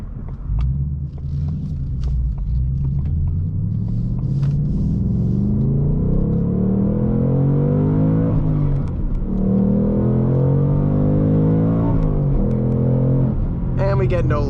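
A 2023 Ford Mustang Mach 1 V8 with a Tremec manual gearbox accelerates, its deep engine rumble climbing in pitch through the revs, dropping at a shift and rising again, loud and continuous from inside the car.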